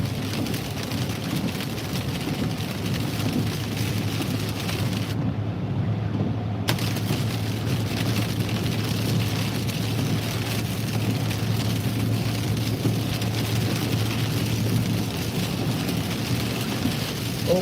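Heavy thunderstorm rain hammers on a car on a Massachusetts highway, a dense, steady hiss and drumming that stays close and loud throughout with a brief dip partway, and no voices.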